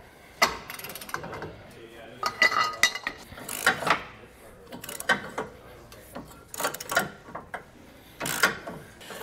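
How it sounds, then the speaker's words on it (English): A breaker bar on a 15/16 socket, with a pipe for leverage, loosens trailer hitch bolts: a series of irregular metallic clanks, clicks and ratcheting bursts up close, separated by short pauses. "One thing that'll help to break them loose is to use a breaker bar."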